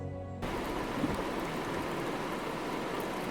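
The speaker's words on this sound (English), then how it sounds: "the clouds moved in and so did the rain" Rain pours down during a safari drive in Kruger National Park, a steady broadband hiss that starts abruptly and continues evenly throughout, soft and close around the vehicle.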